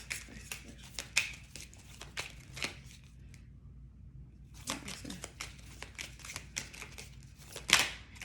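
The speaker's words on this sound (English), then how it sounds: "I'm going to shuffle and then let the card pop out" Tarot cards being shuffled by hand, with repeated crisp riffling and flicking bursts, a quiet pause midway, then more shuffling ending in a sharper snap, close and without talk.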